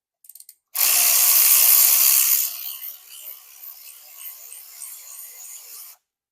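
Ratchet spinning bolts loose on the engine of a 2021 Harley-Davidson CVO Road Glide during a cam install: a loud burst of rasping clicks that drops to quieter, uneven ratcheting, heard alone.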